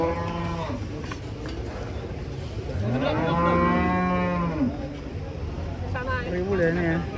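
Cattle mooing nearby, several long drawn-out lowing calls rising and falling, the loudest in the middle, with a person talking over them.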